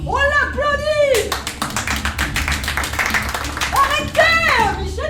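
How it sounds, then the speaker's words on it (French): An audience claps at a live stage show, rhythmic hand claps under excited vocalizing and singing-like voices, with people talking over the clapping throughout. "On l'applaudit!"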